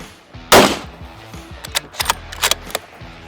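A Sako 90 rifle fires at a shooting range, one sharp loud report near the start followed by a few shorter clicks and cracks, likely bolt handling and distant shots from other shooters.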